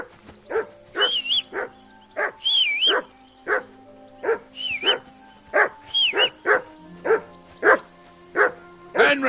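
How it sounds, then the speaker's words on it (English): Dog barking in the medieval video game Kingdom Come: Deliverance 2, a close, insistent series of regular loud barks, some with whining yelps, repeating about once a second. "Jesus, Henry, that barking's driving me nuts!"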